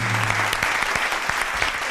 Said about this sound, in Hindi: एहसन खान के लिए तालियां